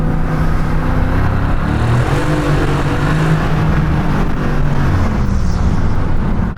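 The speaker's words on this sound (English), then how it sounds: "What you're hearing there is the exhaust, the whole engine, the car, everything put into Sport Plus mode." A Porsche GTS in Sport Plus mode on wet city roads, its exhaust and engine giving a loud, continuous droning roar that holds steady throughout at close range.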